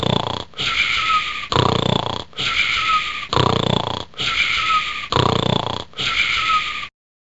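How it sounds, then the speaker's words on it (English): Rhythmic snoring from people sleeping inside a Māori meeting house, loud and close, with eight regular wheezy breaths separated by short gaps, then silence. "I'm really hoping to get some snoring on the tape."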